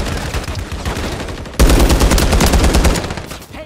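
Rapid automatic gunfire in the video game Call of Duty MW3 on a small map, a stream of close, loud shots that intensifies sharply partway through and keeps firing in quick bursts, with no talking.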